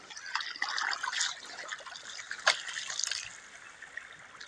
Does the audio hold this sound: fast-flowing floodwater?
yes